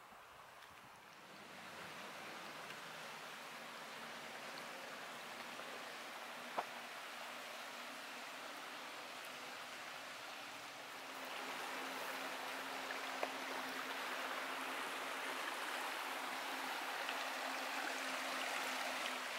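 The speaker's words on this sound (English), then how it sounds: "Crystal clear little Barnes Creek." Clear water of Barnes Creek near Lake Crescent flows steadily in a broad, constant rush that swells slightly partway through, with no voices.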